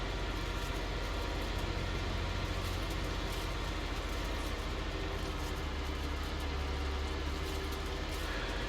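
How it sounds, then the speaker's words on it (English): A tractor engine in Farming Simulator 19 drones steadily at close range, a continuous low rumble with a broad hiss over it and no breaks or speech. "Then I can jump in that other tractor and start the baling process"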